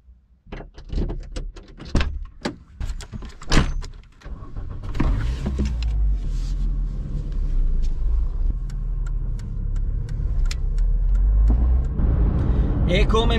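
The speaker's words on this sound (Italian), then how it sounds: "salto in macchina e vado da mio papà" A car heard from inside: several door clunks and thumps, then a steady engine rumble and road noise building as it drives off.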